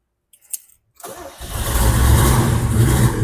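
After a brief click and quiet, a 1965 Pontiac GTO's tri-power V8 engine cranks and catches, then settles into a loud, rumbling idle up close.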